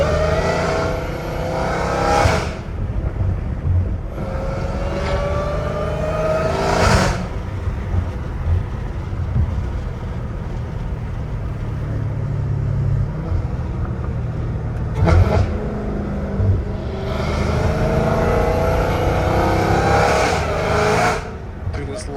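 Catless Dodge Challenger Hellcat Redeye engine accelerating hard, a loud rising supercharged howl climbing through several gears with sharp pauses at each shift, heard from inside the car; people talk over it.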